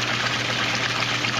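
Water running steadily over a battery-powered RP-4 vibrating table, a continuous gushing flow with a low constant hum beneath it and no voices.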